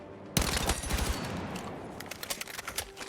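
A DRS-IAR rifle fires a rapid automatic burst at a shooting range in Battlefield 6, a loud close stream of sharp shots at high rate, followed by a few quieter scattered shots and mechanical clicks.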